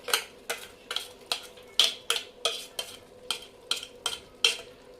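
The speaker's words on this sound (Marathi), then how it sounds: "आता याच्यामध्ये आपण चांगलं परतून घेऊया" A spoon stirs garam masala and ginger garlic paste in a pan for mutton curry, making about a dozen evenly spaced scraping strokes over a soft frying sizzle, close and clear.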